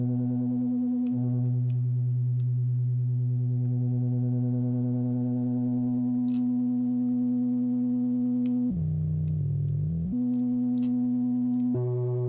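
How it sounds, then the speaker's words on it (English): A steady synthesized sine wave tone, amplitude-modulated in Bitwig, hums throughout with a slow pulsing wobble in its loudness, briefly shifting to a lower, rougher pitch before returning. "we're affecting the amplitude modulation with this sine wave"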